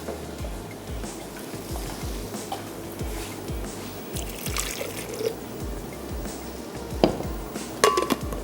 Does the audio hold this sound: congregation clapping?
no